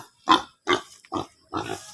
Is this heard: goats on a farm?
yes